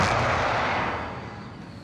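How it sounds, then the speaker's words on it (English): An airstrike in the Call of Duty Warzone video game lands as a large, roaring explosion rumble that starts loud and broad, then slowly decays into a rolling distant tail across two seconds, with no voices. "they just called a airstrike up there"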